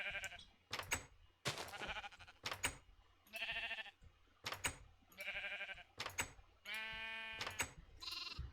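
Minecraft sheep bleat repeatedly in short, separate calls, each one clear and close, with brief quiet gaps between them and no talking.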